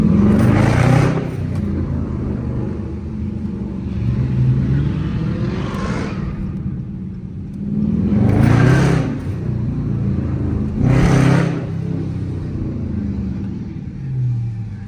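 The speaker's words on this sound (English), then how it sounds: "Five seven sounding crazy." A Dodge Charger R/T with the 5.7 engine revs while driving through the city, a steady deep rumble swelling into three throaty surges, loud and close from inside the car.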